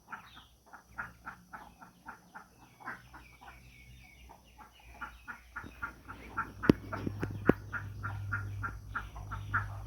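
Kab ducks and a larger breed of similar kind in a backyard, giving a steady run of quacks and clucking calls, near and fairly loud, with a couple of sharp knocks later on and no talk.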